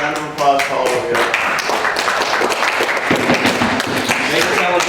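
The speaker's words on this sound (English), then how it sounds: "Round of applause to all of you." Audience at a fan convention panel claps and cheers throughout, loud and dense, with voices mixed in over the applause.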